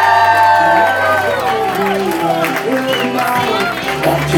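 A studio audience cheers and applauds at a game show, a loud, dense crowd roar with clapping running throughout, while a host's voice and music tones sit over it.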